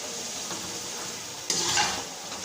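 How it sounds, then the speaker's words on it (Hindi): Beef pieces frying and being stirred in masala in a pot for degi pulao, a steady sizzle with a brief louder stir and clatter partway through, no talk. "गोश्त को फ्राई कर लेंगे, मसाले में अच्छी तरह से भून लेंगे"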